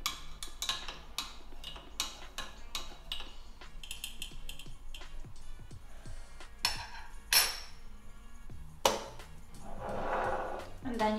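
A spoon stirs espresso in a small cup, giving a run of light, quick clinks and ticks of metal on ceramic spread across the span, close up, with a few louder knocks near the end.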